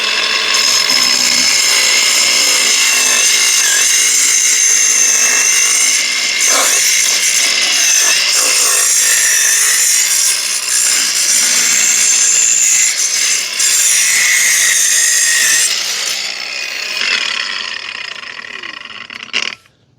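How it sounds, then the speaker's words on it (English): An L1NXIXI cordless angle grinder (8500 RPM, variable speed, running on a DEWALT 20V MAX battery) cuts through PVC pipe with a loud, close, sustained high-pitched whine and rasp that winds down at the end. "I've been outside using it to cut the PVC pipe, and it worked absolutely awesome."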